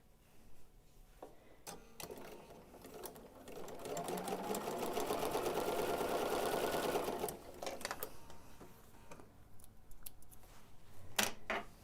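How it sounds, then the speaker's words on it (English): A sewing machine runs steadily through a pieced quilt backing, a close, fast mechanical whir and needle patter that speeds up and slows, with light handling clicks before and after. "So we're going to go ahead and sew this whole one."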